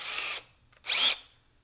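A screw gun used while installing cabinet handles gives two short, close whirring bursts separated by a brief pause, the second burst slightly rising in pitch.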